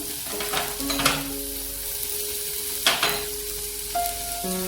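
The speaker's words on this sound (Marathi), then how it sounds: "त्यानंतर आता याच्यामध्ये हा कांदा, सगळ्या भाज्या घालून घ्यायच्या आपण" Onion and mixed vegetables such as carrot sautéing in a garlic and green chili paste, a continuous close sizzle with a few stirring scrapes and utensil knocks, no one speaking.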